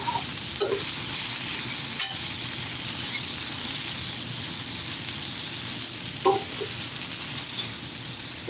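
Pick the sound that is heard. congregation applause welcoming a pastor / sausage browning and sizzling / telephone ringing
sausage browning and sizzling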